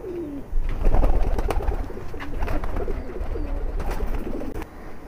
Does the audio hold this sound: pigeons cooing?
yes